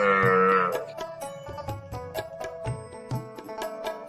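A cow moos loudly and close for about the first three-quarters of a second, a long tonal bellow. Clattering, knocking and rustling noises follow, and no speech is heard.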